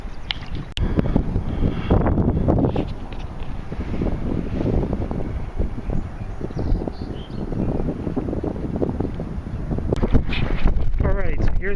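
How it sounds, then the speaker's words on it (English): Breezy wind buffets the microphone while kayaking on the Susquehanna River's North Branch, a steady rumbling roar that continues throughout with occasional water sounds. "It's getting really breezy out."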